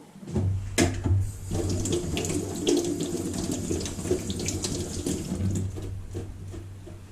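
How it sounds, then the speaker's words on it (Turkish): Kitchen tap running steadily into a sink while hands are washed after handling raw egg, a close, continuous rush of water with small splashes, no talking. "Yumurtayı elledikten sonra elimizi muhakkak yıkayalım."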